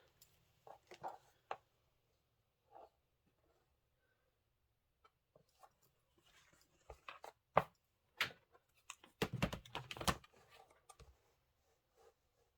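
A fabric piece being cut down, heard as sparse, quiet scissor snips and rustles, then a denser cluster of crisp cuts and fabric handling near the end, close up with no talking.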